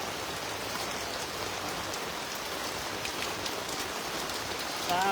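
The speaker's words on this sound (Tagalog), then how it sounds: "Naabot tayo ng ulan." Steady rain pours down in a continuous even hiss, close and moderately loud, with no voices.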